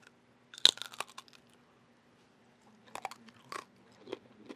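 Salt-crusted lechon belly skin roasted over a woodfire gives one sharp, loud crunch as it is bitten, then a few softer crackling chews after a pause, close up in a quiet setting.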